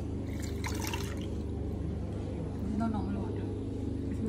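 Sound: pouring cucumber detox spa water

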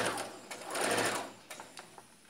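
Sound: sewing machine stitching a men's shirt

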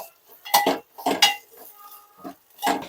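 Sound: stirring and mixing ingredients in a pot

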